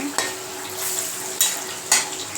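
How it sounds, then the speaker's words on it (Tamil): Onion-tomato masala stirring and frying in hot oil in a pan for garlic kuzhambu, a steady close sizzle broken by a few sharp scrapes of a spoon against the pan, with no talking. "போட்டு இதை நல்லா மிக்ஸ் பண்ணிக்கோங்க எண்ணெயிலே வதங்கட்டும்"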